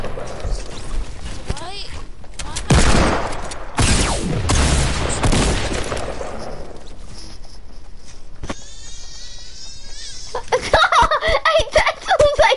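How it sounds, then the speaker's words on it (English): Shotgun blasts in a multiplayer video game ring out as several broad, booming bursts in the first half, with voices chatting and game sounds layered over and after them. "I'm just gonna use my shotguns for now."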